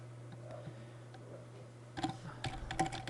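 Keys tapped on a computer keyboard while writing simple HTML, a few quick clicks over a steady low hum, growing denser and louder in the last second.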